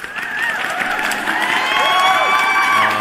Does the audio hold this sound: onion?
no